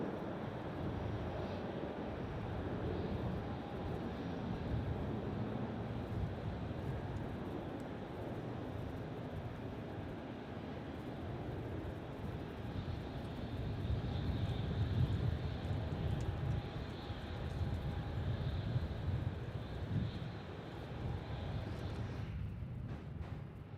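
An airliner takes off from runway 27 at Melbourne Airport, heard as a steady, fairly distant jet roar with broad rumble lasting throughout, at moderate level with no talk.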